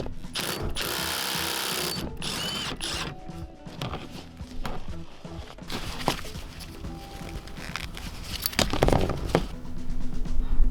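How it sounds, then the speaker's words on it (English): A ratchet fitted with a 14mm socket works loose a seat belt bolt in a Toyota Tacoma, giving a close, busy run of clicking and mechanical grinding over about ten seconds with no talk. "Now we could remove that bolt with a 14mm socket."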